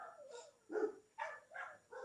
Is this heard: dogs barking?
yes